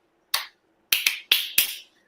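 Sharp, dry hand claps ring out close and clear, a single clap followed after a pause by a quick run of four, each cut off quickly in a quiet room.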